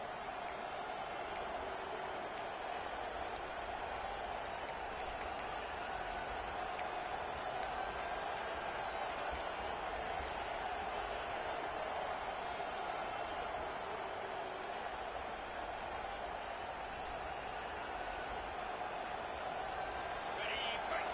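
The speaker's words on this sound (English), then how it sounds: "This crowd trying to make life miserable for this offense." Dense, steady stadium crowd roar fills a Madden football video game broadcast of an Alabama game, sustained and loud throughout with no pauses, under a commentator's voice.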